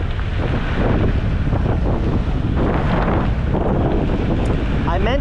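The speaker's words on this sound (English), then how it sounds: "man, it's windy." Wind buffets the microphone outdoors during a ride on a Kaabo Mantis 8 electric scooter, a loud, continuous rumbling roar throughout with a voice faintly underneath.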